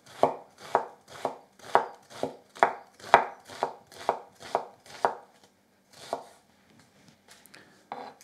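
A kitchen knife finely chops an onion on a cutting board at normal speed, a steady run of about a dozen crisp, close chops in quick rhythm, then a pause and a few scattered cuts.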